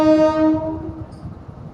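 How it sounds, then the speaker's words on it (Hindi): An Indian Railways local train's horn blares loudly and fades within the first second, followed by the steady low rumble and rhythmic clatter of the train rolling past. "ये देखो अभी ट्रेन इधर से आ रही है।"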